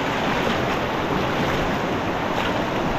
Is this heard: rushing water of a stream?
yes